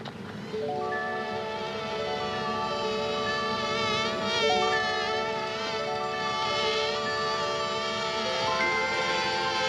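A steady, dense buzzing of many bees from a hive hums continuously, with layered droning tones that shift slightly in pitch, close and fairly loud throughout.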